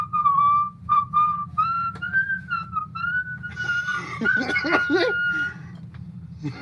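Someone whistles a wavering, slightly off-key tune, alone and fairly close, before a louder burst of clucking, rattling noise joins near the end.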